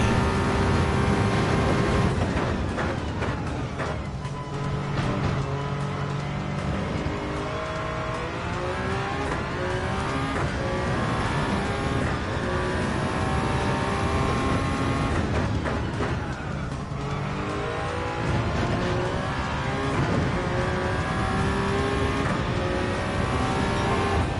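Race car engines scream and rev through gear changes in Gran Turismo 7 on a Le Mans-style circuit, loud and continuous, with pitch sweeps rising and falling out of a chicane and no speech.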